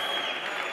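Applause from a church congregation, a steady broadband patter of many hands held at an even level for a brief moment, with no voices over it.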